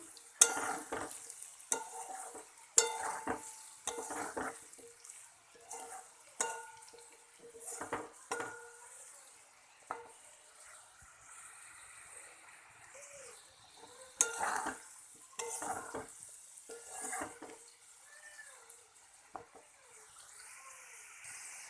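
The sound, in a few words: potato pieces frying in oil under a lid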